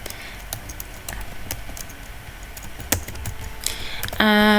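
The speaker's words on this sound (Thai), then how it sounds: "เราจะเริ่มพิมพ์ข้อความกันเลยค่ะ" Fast, steady typing on a computer keyboard while working in Illustrator CC, a close run of crisp key clicks with a brief tonal beep at the end.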